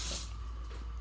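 Water splashed onto a hot cast iron pan makes a brief, close hiss and spatter that fades quickly over about a second.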